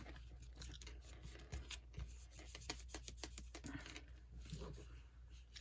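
Paper ephemera being rubbed down onto a cardboard box journal, close and quiet, with repeated short scraping and rubbing strokes in an uneven rhythm.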